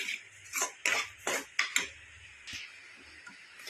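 Kesari sweet being stirred in a pan with a spoon, giving a series of close, irregular scraping and clinking strokes against the metal, several in the first two seconds, then softer scraping.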